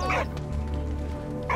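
A dog in the video game Valiant Hearts: The Great War gives two short, close barks, one at the start and one at the end, with a quiet low background drone in between.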